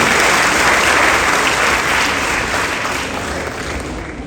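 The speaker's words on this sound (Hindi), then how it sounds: "आपकी तालियों की आवाज आते रहनी चाहिए।" A crowd at a tribute ceremony for police martyrs claps loudly and continuously, the applause easing off a little toward the end.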